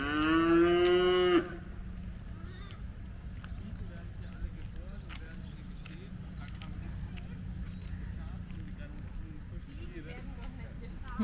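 A cow lets out one long, loud moo close by on a farm with calves, then fades into a background of quieter rustling, footsteps and faint distant animal sounds.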